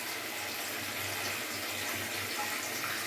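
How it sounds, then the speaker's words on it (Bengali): Water, about two cups, pours into a pan of oily, spiced dahi potol (yogurt and pointed gourd) curry, a continuous close splashing rush lasting the whole few seconds. "এবার আমি এর মধ্যে জল দিয়ে দেবো"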